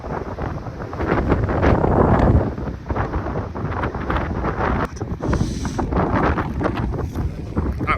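Strong coastal wind at Lizard Point roars continuously and loudly across the microphone, buffeting in gusts with no pauses.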